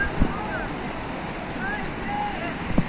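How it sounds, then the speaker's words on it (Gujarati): Big sea waves surge and crash at Mangrol harbour during Cyclone Biparjoy. Continuous roaring surf blends with heavy wind buffeting the microphone, with a couple of sharper thumps near the start and end. "તો તમે જોઈ શકો છો એટલા મોટા મોજા ઉછળી રહ્યા છે ને."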